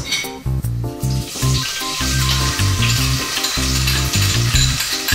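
Onions drop into hot oil already flavored with cumin seeds and sizzle loudly and steadily, with the crackle of frying broken by brief stirring.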